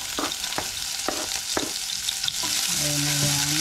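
Onions sauté in a hot pan with a steady sizzle and several sharp scraping stirs, close up, then a faint tonal hum comes in toward the end.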